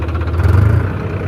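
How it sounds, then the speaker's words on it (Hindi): A Farmtrac 60 Worldmax tractor's engine drones steadily at a low, even pitch as the tractor creeps slowly in reverse, close and loud with no talking. "देख लीजिए ट्रैक्टर बिल्कुल पीछे चल रहा है हमारा।"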